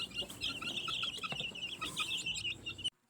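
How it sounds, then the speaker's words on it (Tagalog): Two-week-old chicks in a brooder box keep up a dense, continuous chorus of high, shrill peeping at close range until the sound cuts off abruptly. "Itong mga sisiw sa isang brooder naman ay nilalagay pa namin ito sa kahon magdamag."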